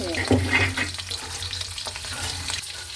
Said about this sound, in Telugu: ఇప్పుడు ఇందులో జీలకర్ర, పచ్చిమిరపకాయలు పోపు వేస్తాను.